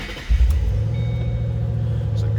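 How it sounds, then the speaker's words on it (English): A 2007 Ford Mustang Shelby GT engine starts with a brief loud burst, then settles into a steady, deep idle heard up close. "Let's go ahead and start this up so you can hear it run."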